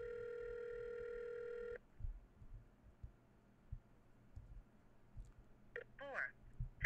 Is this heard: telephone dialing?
yes